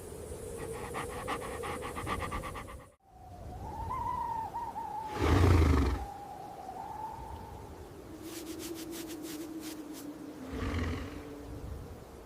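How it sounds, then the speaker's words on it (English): A dingo panting in extreme heat, rapid rhythmic breaths close by, broken by a short pause and a louder gusty burst, then more quick breathy panting alongside low rumbling background tones. "Panting regulates their internal thermal baseline efficiently."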